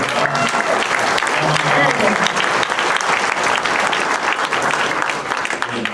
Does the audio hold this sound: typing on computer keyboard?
no